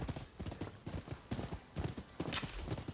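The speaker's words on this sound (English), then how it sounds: "Looks very unnatural for a horse running." Rapid clip-clop of a galloping horse's hooves in the video game Rise of the Ronin, a steady quick rhythm of hoof strikes heard fairly close and moderately quiet.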